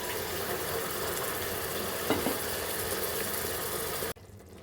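Tomato and onion paste frying in a pan, giving a steady, loud, broadband sizzle that runs unbroken for about four seconds before cutting off abruptly.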